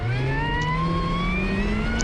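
A rallycross car at Pikes Peak International Raceway revs hard on throttle toward the limiter, its engine note climbing steadily, loud and close, with no talk.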